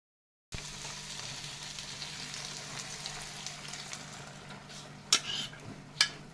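Beaten eggs poured over simmered potatoes for an omelette sizzle steadily in a pan, a continuous soft frying hiss with a couple of sharp utensil clinks near the end.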